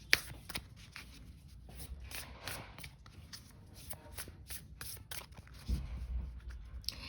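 Tarot cards being shuffled by hand close up, with repeated quick riffling bursts and soft slaps in an uneven rhythm, quiet and dry, with no talking.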